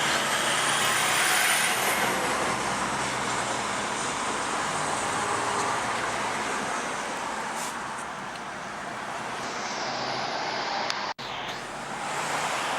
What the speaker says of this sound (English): What's wrong with his muffler making all that noise?